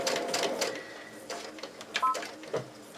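A sewing machine stitches fabric while piecing a quilt cross block, giving a soft, fast mechanical whir in short runs, quiet and close.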